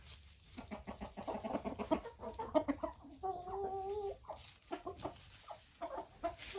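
Silkie chickens cluck and murmur close by in a backyard, a steady run of soft rhythmic clucks with a brief higher tonal call in the middle.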